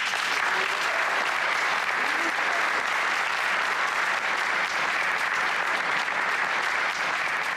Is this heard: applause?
yes